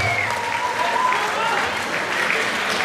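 Sustained audience applause fills a kickboxing match hall in Uithuizen, steady and dense throughout, with a faint voice and whistle-like tones drifting over the clapping.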